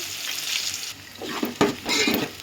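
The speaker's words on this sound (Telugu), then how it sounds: "కొంచెం నూనె వేడెక్కిన తర్వాత పట్టా లవంగా వేసుకోవాలి. ఆనియన్స్ వేసుకోవాలన్నమాట." Onions and whole cinnamon and cloves frying in hot oil, a steady sizzle with stirring clatter and a few sharp bursts as ingredients hit the pan, close and fairly loud with no talk.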